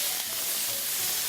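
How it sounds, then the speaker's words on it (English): Food fries in a hot pan after Dijon mustard is mixed in, giving a loud, continuous, close-up sizzle with steady crackling and no voices. "All this sizzling, steaming, making it cook."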